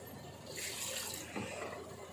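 About 1.5 glasses of water pour steadily into a metal pressure cooker with meat, a rushing splash that swells and then eases, fairly quiet.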